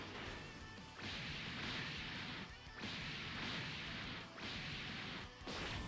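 Super Saiyan God rush attack in the Dragon Ball video game Dragon Generations: a loud, continuous barrage of blasts and impacts, broken by brief dips about every one and a half seconds before the onslaught resumes.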